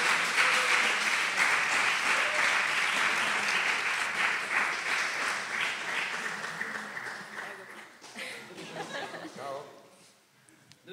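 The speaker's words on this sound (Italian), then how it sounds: "Forte l'applauso" An audience at a talk show greets three voice-dubbing guests with loud, dense applause that starts at full strength, then gradually thins and fades over about ten seconds, with some chatter and light laughter mixing in toward the end.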